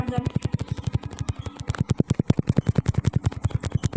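Rapid automatic gunfire from a video game rattles in a fast, steady, loud burst of evenly spaced shots lasting several seconds.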